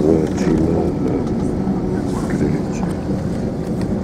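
An airplane taking off, heard from inside the cabin as a dense, steady engine roar with no gaps, loud and constant throughout.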